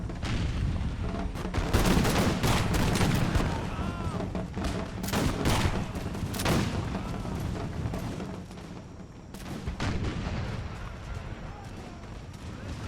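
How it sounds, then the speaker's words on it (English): Cannon fire and musket volleys in a line battle in the video game Imperial Splendour, with dense overlapping gunshots and booms rolling continuously, loudest early on and easing slightly later, under occasional talk. "That cannon literally just hit right next to them."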